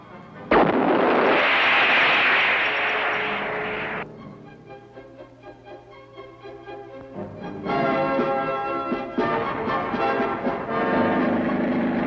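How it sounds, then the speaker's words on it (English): An artillery round fired from a General Sheridan tank booms loud and close, a sustained roaring blast that fades over a few seconds, followed by rumbling, ringing reverberation and a second burst of heavy noise. "The General Sheridan packs a powerful punch, a conventional artillery round, plus the Shillelagh missile."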